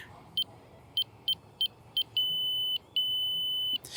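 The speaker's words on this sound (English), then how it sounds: "as we go into level, it starts beeping faster" Short electronic beeps from a Stabila digital level repeat at an irregular, quickening pace as it nears level, then merge into longer sustained tones over a faint background hum.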